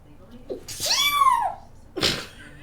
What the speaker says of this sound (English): I love your sneezes.